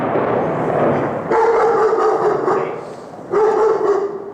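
A dog barks outdoors on the KTH campus in Sweden, two loud, drawn-out bursts of barking and yelping a couple of seconds apart, close by and dominating the scene.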